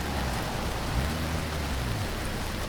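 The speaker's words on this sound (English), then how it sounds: "It is raining" Steady rain hissing down in BeamNG.drive, a continuous dense wash of drops with a low rumble underneath, no voices.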